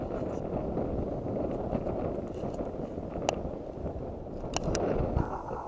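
A bitterly cold wind blows across open rural land during a rabbit hunt. It makes a fairly faint, gusty, low rumbling that buffets the microphone without a break, with a couple of brief clicks.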